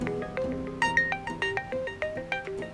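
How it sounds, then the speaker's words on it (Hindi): A telephone ringtone plays a bright, repeating electronic melody in a domestic scene, its short tonal notes pulsing in a steady rhythm, fairly close and clear with no talking over it. "क्या गार्ड्स का फोन है?"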